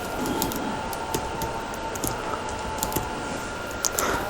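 Fingers tap steadily on a computer keyboard, a quick run of light, close clicks with an uneven rhythm over a faint steady hum, and no one speaking.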